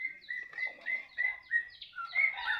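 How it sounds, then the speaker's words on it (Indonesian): A young wild white-rumped shama sings close and clear, a quick run of bright, varied whistled phrases and chirps in short bursts with tiny gaps, against a quiet background. "Jenisnya murai batu muda hutan."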